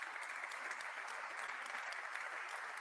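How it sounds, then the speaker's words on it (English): An audience claps at an evening presentation event after a classical concert by music academy students, steady dense applause throughout, somewhat distant and moderately quiet. "Please an applause once again."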